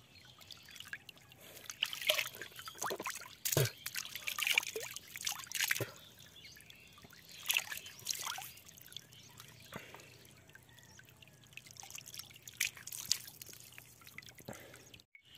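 Water trickles and splashes in irregular drips and pours as people wash their faces outdoors in a village, close and fairly quiet with little talk.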